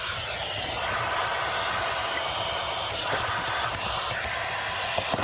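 A vacuum cleaner hoovers up debris and droppings from a filthy Land Cruiser engine bay before the manifold comes off, giving a steady close airy roar with slight fluctuations as the nozzle moves.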